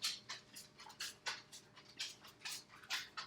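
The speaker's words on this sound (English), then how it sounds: "I don't know if you can hear my dog clacking by." A dog's claws click and clack on a hard floor in quick, light, irregular taps as it walks past, fairly close and clear in a quiet indoor room with no talking.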